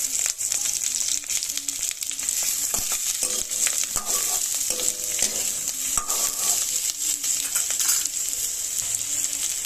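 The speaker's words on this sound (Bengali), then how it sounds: "তেলটা গরম হয়ে গেছে, আর দিয়ে নিচ্ছি ওই যে আলু কেটে রেখেছিলাম আর কাঁচা লঙ্কা," Cut potatoes and green chillies frying in hot oil in a pan, a loud, dense, continuous sizzle and crackle with repeated spatula scrapes and clinks against the pan, close by and with no voices.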